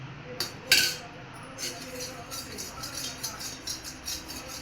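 Metal spoon clinking against a bowl while mixing a recipe at home, a few sharp clinks early then lighter scraping taps, with faint voices in the background.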